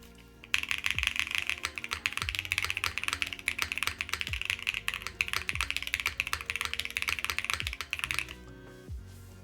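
Rapid, continuous typing on a mechanical keyboard, crisp clacky keystrokes close up with a few heavier thocks from larger keys, running steadily for about eight seconds before stopping.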